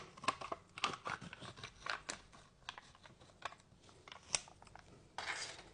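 Crinkly plastic wrapper of an Eker hazelnut milk pudding being torn open, with a run of close, sharp crackles and rips, then a brief rustle at the end.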